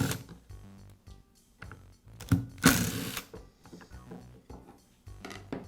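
Screws come out of the base plate of a Makita plunge router under a screwdriver: faint, irregular ticks and clicks with one louder scraping squeak midway, no talking.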